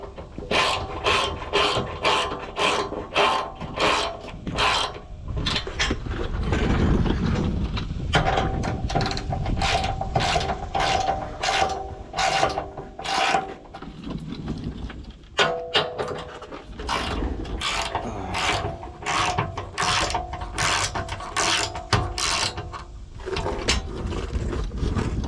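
A hand socket ratchet tightens a bolt down, giving repeated rapid clicking bursts in a steady back-and-forth rhythm, close and clear, with brief pauses between strokes and no talking.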